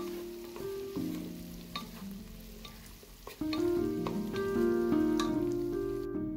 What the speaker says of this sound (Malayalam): ക്യാപ്സിക്കും സവാളയും കുക്കാവുന്നത് വരെ നല്ലപോലെ വഴറ്റിയെടുക്കുക